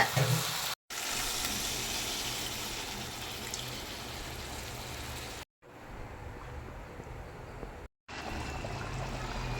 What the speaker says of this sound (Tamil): இப்போ பாருங்கள் நல்லா கொதிக்குது